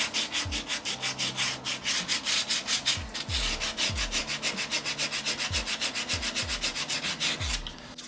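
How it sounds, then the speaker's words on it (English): Sandpaper rubs back and forth over a dampened lime wood carving of a decorative leaf panel, a steady, close, rhythmic scratching with regular strokes for about eight seconds and no talk. "Just dampening it down kind of raises the grain a little bit, lets you kind of sand it a little bit better."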